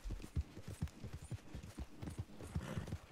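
A horse's hooves clop in a quick, regular rhythm in the open-world western video game Red Dead Redemption 2, faint and muffled with a soft low hum behind them.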